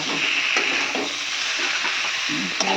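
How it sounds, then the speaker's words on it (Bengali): Potatoes frying in a pan for a Bengali stalk curry, a steady close sizzle with soft scraping stirs of a spatula throughout, no voices. "আলুটা দাও, হালকা করে নাড়বো।"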